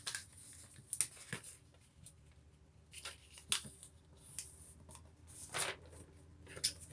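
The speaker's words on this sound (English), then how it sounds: "now we're going to fold in these two sides to the center as well" Paper folded by hand into a secret note, with a handful of soft crisp rustles and sharp creases spaced a second or two apart, close and quiet.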